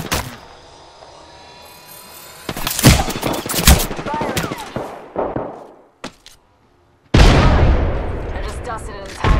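Loud gunfire in Apex Legends, with sharp bursts and volleys broken by brief pauses, followed by a heavy sustained barrage near the end.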